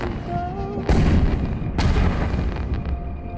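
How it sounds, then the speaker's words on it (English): Fireworks from an episode of the animated series Invincible go off in two loud booming bursts with crackling tails, heard over a low rumbling background. "Who the hell is lighting off fireworks?"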